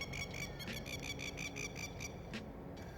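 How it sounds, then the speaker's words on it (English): A masked lapwing gives a rapid series of loud, strident calls, sharp and repeated, with a fainter call later over quiet outdoor background. "That noisy bird you can hear is the masked lapwing."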